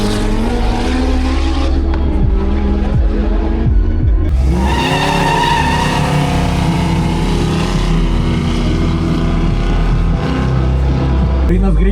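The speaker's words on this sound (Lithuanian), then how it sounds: "Denis Veržanski, BMW S1000RR kvalifikacija." A BMW S1000RR superbike screams through a qualifying run, its engine pitch sweeping up and down in sharp surges as it passes. A voice talks over the loud engine noise.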